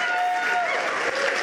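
Applause from an audience at an improv session, broadband and steady for the whole moment, with a faint voice or tone running underneath.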